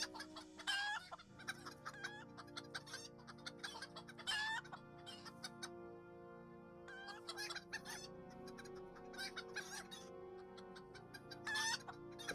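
Chickens cluck steadily throughout, with repeated rooster crows rising over the flock at intervals, close and fairly loud over a constant low background hum.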